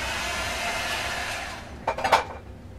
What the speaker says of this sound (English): I am having a problem with the heat gun blowing these around